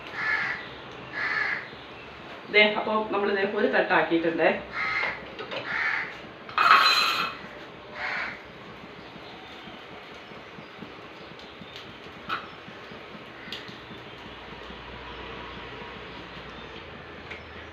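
A crow cawing outdoors, a series of loud harsh calls in bursts over the first eight seconds, then quieter occasional sounds, with a brief spoken phrase.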